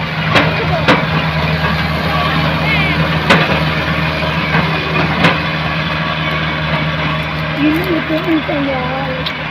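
A tractor engine drones steadily and loudly during a reverse driving race held in a field at a Sri Rama Navami festival, with a few sharp knocks and clicks cutting through the continuous rumble.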